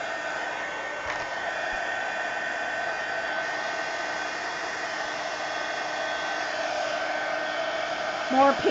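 A hair dryer blows a steady, loud whooshing hum over paint in an art journal, running without a break while a voice briefly speaks near the end.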